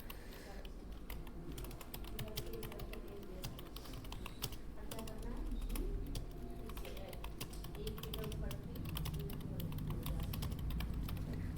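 Rapid, irregular keystrokes on a computer keyboard during data entry practice in MS Office, a soft continuous clatter that runs throughout at low volume.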